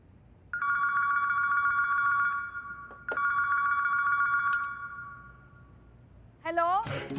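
A desk telephone ringing at the women's police station in Lucknow district, two long electronic rings with a short gap, loud and close, followed by a brief voice at the end.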